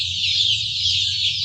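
Andijan black chicks peeping in a dense, continuous chorus of high chirps, close and fairly loud, over a low steady hum.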